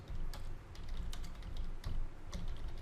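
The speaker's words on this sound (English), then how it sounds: "All we need to do here is we type in any keyword." Quick bursts of keystrokes on a computer keyboard as a keyword is entered, close and fairly quiet over a low background hum, with no talking.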